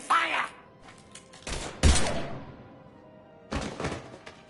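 Scattered sci-fi weapon shots and heavy impacts ring out in a Mass Effect Legendary Edition firefight, a few loud bursts separated by quieter gaps, with a short vocal sound near the start.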